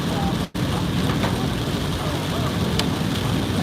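Steady, fairly loud rain pours down as a continuous close hiss, broken by a brief drop near the start.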